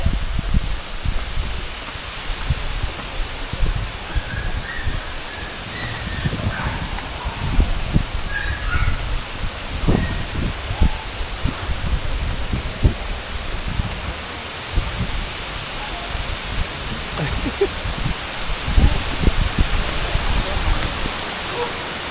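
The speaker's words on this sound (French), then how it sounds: "il pleut beaucoup" Heavy rain falls outdoors as a continuous broadband hiss, broken by irregular low thumps and rustling, with faint background voices.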